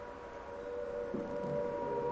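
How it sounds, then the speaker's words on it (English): Air raid siren sounding a steady wartime alert in 1940s Britain, a sustained tone held for about two seconds, moderately faint and slightly distant, alone without voices. "The siren's going off!"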